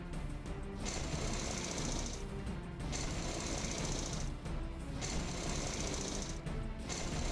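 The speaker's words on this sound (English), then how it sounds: "Constantly attack this thing with the drill" The drill unit in the strategy game Battle Nations attacks with a rapid mechanical rattling, three sustained bursts with short gaps between them, loud and alone.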